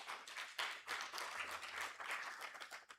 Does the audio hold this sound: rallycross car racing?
no